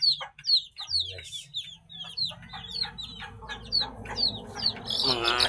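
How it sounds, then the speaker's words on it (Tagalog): Chickens and chicks on a farm at dusk: high, rapid peeping from chicks mixes with low, intermittent clucking from adult hens, busy and close throughout. "Mga sisiyo natin na malulusog."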